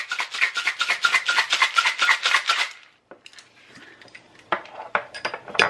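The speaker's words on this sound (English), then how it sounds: "Too much ice in there, but that's okay. Be nice and chilled. I'm gonna shake it up." Cocktail shaken hard with ice in a shaker, a steady rapid rattle of ice for about three seconds, close and loud, then scattered clinks and rustles as the shaking stops.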